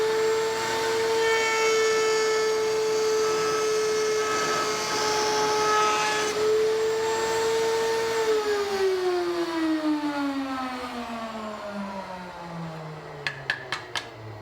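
A table-top router cuts a second pass along the same groove, its steady high motor whine holding loud and level before sliding down in pitch as it spins down, with a few sharp clicks at the end.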